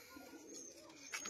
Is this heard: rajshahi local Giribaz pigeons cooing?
yes